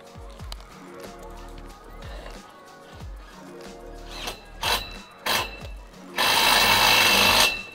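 A power driver sets 3/8 self-tapping screws into a metal greenhouse frame, giving short repeated whirring bursts with clicks and knocks between them, ending in a longer, harsher grinding burst.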